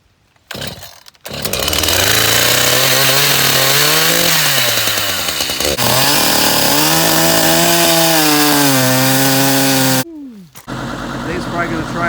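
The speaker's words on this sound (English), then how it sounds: "So, got the chainsaw. I'm gonna be trimming her down to size." A chainsaw roars loudly up close while trimming a log, its engine pitch rising and falling as it cuts, then cutting out briefly before idling again.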